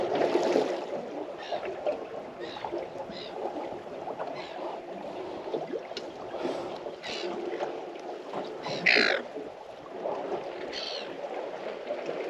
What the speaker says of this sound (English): Seagulls are excited.